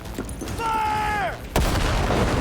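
Gunfire in the video game Cyberpunk 2077: a drawn-out shouted voice gives way to one loud, sharp burst and a noisy, rumbling tail.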